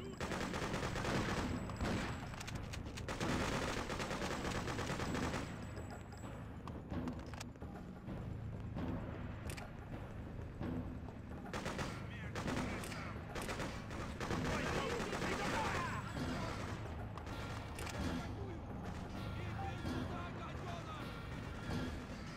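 Sustained gunfire in the shooter Freedom Fighters, rapid rattling bursts of automatic weapons and scattered shots through a battle, loud and continuous with shouting voices mixed in.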